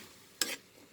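A spatula stirs bottle gourd stir-fry with dried shrimp in a pan, one short scraping sweep standing out clearly against a quiet kitchen background.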